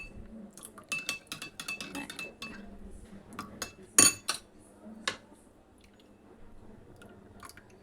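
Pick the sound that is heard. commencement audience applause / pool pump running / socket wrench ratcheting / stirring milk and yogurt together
stirring milk and yogurt together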